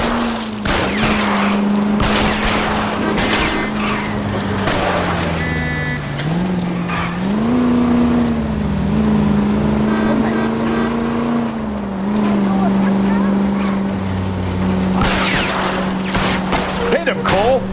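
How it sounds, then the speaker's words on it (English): Video game car chase in L.A. Noire: a roaring engine drones steadily with shifting pitch, tires squeal, and sharp bursts of gunfire crack out near the start and end, all loud and close. "I'll try to shoot out his tires."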